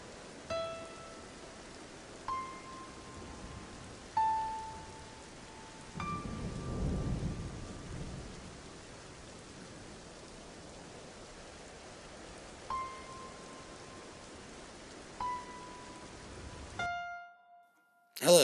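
Steady rain hisses alone across a long stretch of a thunderstorm, with a low rumble of thunder swelling in the middle and faint tonal chimes popping in and out before it cuts off.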